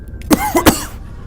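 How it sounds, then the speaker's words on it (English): Three short, harsh coughs from one person close to the microphone, coming in quick succession and then giving way to quiet. "Sorry for all the coughing."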